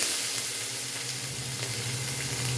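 Mustard seeds, cumin, curry leaves, chillies and onion sizzle in hot oil, a short, steady, close crackling hiss with no voices.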